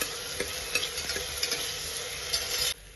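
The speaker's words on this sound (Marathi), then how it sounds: "कांदा छान आपल्याला फ्राय करून घ्यायचा आहे।" Chopped onion frying and sizzling in a pan for chicken curry, a steady close hiss with a few soft stirring scrapes, no talking.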